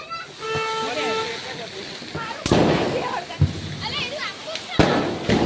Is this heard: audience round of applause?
no